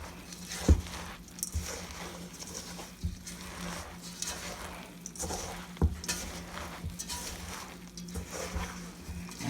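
Eggs being stirred and mixed into a dish destined for baking, heard as a steady wet scraping and sloshing with a few louder clinks of utensil against the bowl, close and alone without talk.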